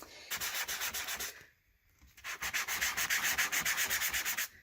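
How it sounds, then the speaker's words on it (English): A surface is sanded by hand in quick rhythmic back-and-forth strokes, a bright scratchy rasp in two bursts separated by a short pause, close and alone. "It may be a little bit more work, but it looks like it sanded up quite nicely."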